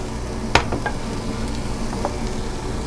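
Beef fried rice sizzling in a hot pan as cooked rice goes in, a steady frying hiss with a sharp clatter and a few soft scrapes and taps.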